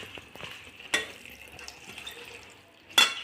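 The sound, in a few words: washing leafy greens under running tap water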